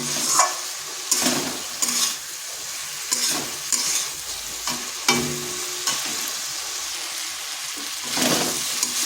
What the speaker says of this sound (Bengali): এবার এই মশলার সাথে আলু পটলটাও বেশ কিছুক্ষণ এভাবে কষিয়ে নিতে হবে